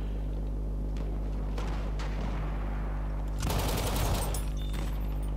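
Rapid bursts of gunfire and explosive booms from the Battlefield 1 video game on the Verdun Heights map, a dense fusillade that swells loudly past the midpoint over a steady low background hum.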